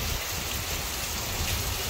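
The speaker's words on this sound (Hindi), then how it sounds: "बारिश तेज़ हो गई।" A heavy downpour pours down steadily outside a home in India, a loud, dense, even hiss of rain with no pauses and no voices.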